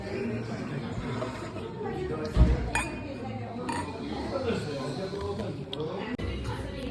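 Wine glasses clink in a toast at a countryside vineyard tasting in Hungary. One or two brief, light clinks come through amid steady chatter and room noise.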